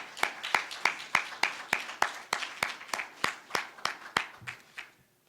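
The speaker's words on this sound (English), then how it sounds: "Let's give them another round of applause." About fifteen loud, sharp hand claps in a steady rhythm, slowing slightly and then stopping, from an audience at an awards ceremony for race relations prize winners.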